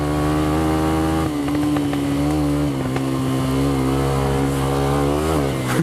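Lexmoto Venom motorcycle riding along, its engine giving a steady buzzing drone whose pitch climbs and shifts through a couple of throttle changes, loud and close.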